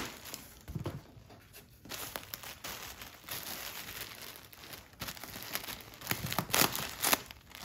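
Insulation packaging crackles and crinkles inside a shipping box of frozen feeder rats, soft close-up rustling in irregular bursts that grow busier toward the end.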